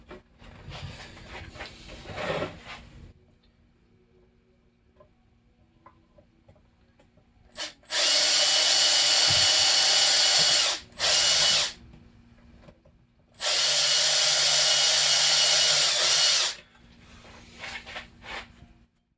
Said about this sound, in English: But I will pre-drill it